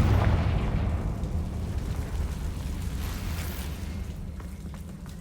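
A Confringo blasting spell erupts in the Hogwarts Legacy video game, a loud explosive boom at the start that decays into a long rumbling roar, with no voices.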